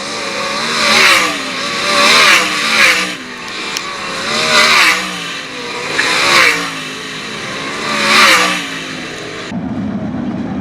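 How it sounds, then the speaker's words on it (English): Race cars circling the Attica Raceway Park track, with engines repeatedly swelling and fading as cars roar past, loud and continuous, before the sound drops to a lower rumble at the end. "now Chris Andrews establishes his position in that runner-up spot as the white flag goes in the air."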